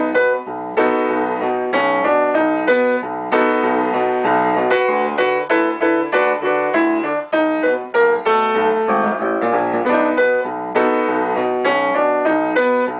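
Piano part of a song played with both hands together, a steady stream of loud, close, syncopated chords and bass notes continuing throughout without pause or voices.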